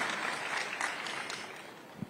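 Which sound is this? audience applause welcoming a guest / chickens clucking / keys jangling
audience applause welcoming a guest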